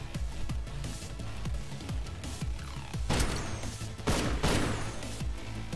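Gunfire from the video game Chrono Ark, with a blind-fire attack of six bullets rattling off as rapid bursts of shots and impacts over game music, loud and continuous.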